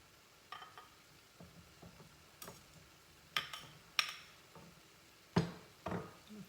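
Food cooking on a stove over very low heat gives a faint, quiet sizzle, broken by scattered sharp ticks and clinks at irregular intervals.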